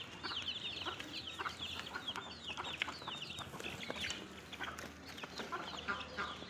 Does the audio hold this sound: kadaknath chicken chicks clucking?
yes